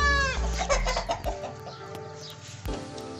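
Mixed-breed chickens cluck and call in a busy farmyard at a buffalo farm in Pakistan, with several bursts and thumps over a steady background murmur, no talking.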